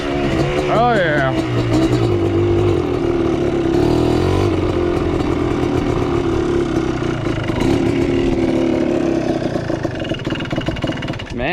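A Yamaha Blaster ATV engine runs unevenly, struggling to idle, with a loud buzzing two-stroke drone that rises and falls close by for the whole stretch, under occasional talk.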